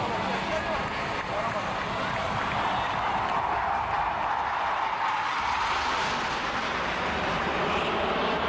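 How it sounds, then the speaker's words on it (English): A Hawk Mark 132 Advanced Jet Trainer roars past during an Indian Air Force Day air show over Marina beach, a loud sustained jet rush that swells and shifts in pitch, with crowd noise beneath. "the Hawk Mark 132 Advanced Jet Trainer"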